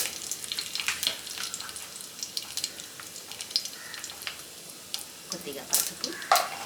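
Mustard seeds, cumin and dried red chillies sizzle and crackle in hot oil, a steady frying hiss broken by sharp pops and spatters throughout, close and moderately loud.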